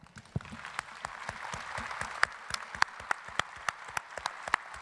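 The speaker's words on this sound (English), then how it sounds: "everybody has to applaud our staff" An audience applauds the event staff at a gastronomy event, the clapping steady and crowd-wide with sharp individual claps standing out near the front.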